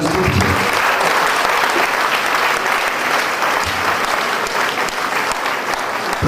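Audience applause, a dense, loud and continuous clapping that holds steady throughout without a break, as though heard from within the crowd.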